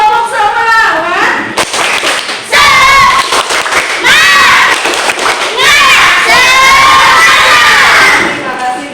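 A primary school class of children chant loudly in unison and clap in rhythmic bursts, voices rising and falling together, close and energetic.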